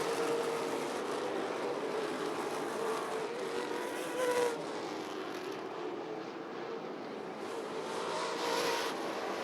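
Late model race cars lapping Rockford Speedway in a feature race, a steady broadband engine roar from the pack with passing surges, continuous and moderately distant throughout.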